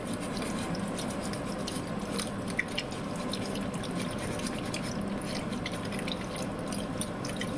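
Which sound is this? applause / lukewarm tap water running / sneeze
lukewarm tap water running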